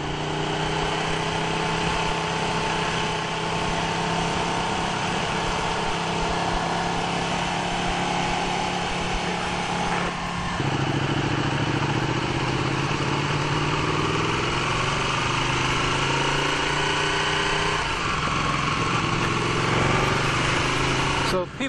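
A motorcycle engine idles steadily and loudly close by for the whole stretch, its pitch shifting slightly partway through.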